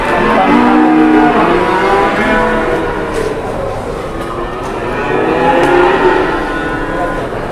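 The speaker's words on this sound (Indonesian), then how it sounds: "Super pilihan yang tepat ini untuk Lembu Suro ambil sapi ini ya" A cow moos loudly and long, a low drawn-out call repeated twice amid outdoor background noise.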